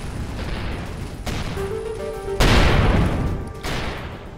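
Fast-firing ship gun fire in the space game Avorion: sharp impacts and a heavy blast over droning tones, followed by a loud sustained burst of rapid shots that fades out.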